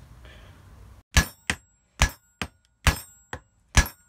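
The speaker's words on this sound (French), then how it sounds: "Le roulement, il est rentré en force." A bearing being forced into place on a bicycle fitted with a Stihl MS660 93.5cc chainsaw cylinder: seven sharp metallic hammer strikes, close and loud, in uneven pairs after a brief quiet rustle.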